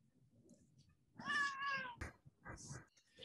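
A cat gives a clear, drawn-out meow close to the microphone, followed by a couple of shorter, softer mews, with a faint voice in the background.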